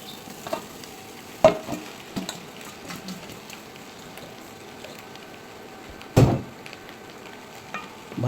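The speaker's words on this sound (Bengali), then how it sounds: "এবার ভাত ঢেলে দেবে।" Cooked rice is tipped into a frying pan and stirred for lunch, with a low continuous sizzle and two sharp scraping stirs, one near the start and one later, close and fairly quiet.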